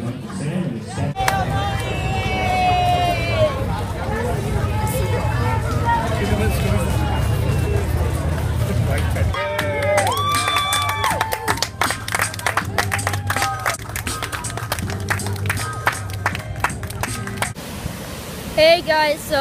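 A Fourth of July parade crowd cheers and claps with a dense murmur of voices, swelling into bursts of applause, whistles and shouts, with a voice talking over it at times.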